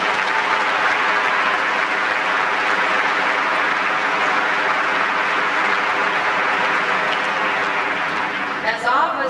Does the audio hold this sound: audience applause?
yes